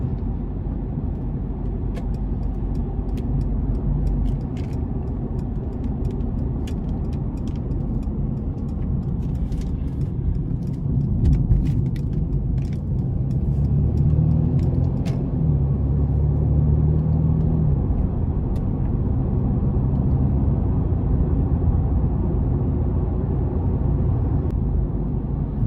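A 2017 Mercedes-Benz C300 Sport is driven in eco mode, heard from inside the cabin as a steady low engine and road rumble with slight swells as it shifts through gears. No one speaks.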